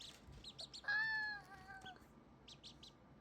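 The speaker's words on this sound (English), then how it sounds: "Who keeps chirping?" Ducklings peep in a loud, drawn-out call, followed later by a few short, thin chirps over a low background hum.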